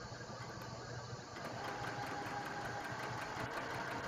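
Sewing machine stitching a series of quilt squares, a steady mechanical hum with rapid needle rhythm, fairly quiet and continuous, picking up slightly partway through.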